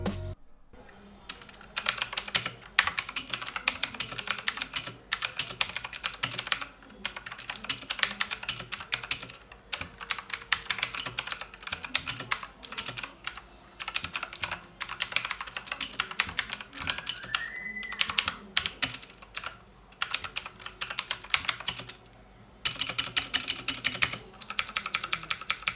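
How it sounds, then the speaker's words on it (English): Steady typing on a Redragon Kumara K552 mechanical keyboard, with dense rapid key clicks running in continuous bursts and a few short pauses, close and clear with no talking. "So for those who are wondering how does it sound while typing, here's a quick type demo."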